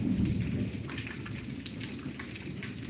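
Rain pours steadily and close by, a dense wash of drops over a deep low rumble that carries on throughout.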